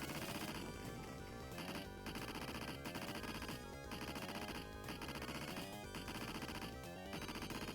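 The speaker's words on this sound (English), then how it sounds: "I can only fire in short bursts, then I have to release the fire button and hit it again" Machine gun fire from the 1989 Dynamite Duke arcade game comes in short bursts with brief gaps, dense and loud over busy game music and effects.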